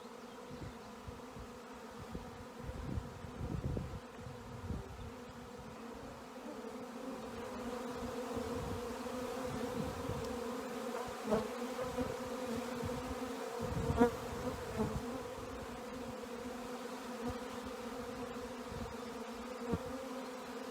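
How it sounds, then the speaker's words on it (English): A honey bee swarm flying overhead while moving in produces a steady, dense insect buzz that holds throughout, with a few louder passes as bees fly close by. "the sky is just covered with bees right now"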